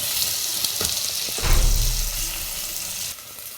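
Onion and carrot hit a hot frying pan in a home kitchen, setting off a loud close sizzle that swells and then settles into steady frying hiss, with some light clatter and no talk.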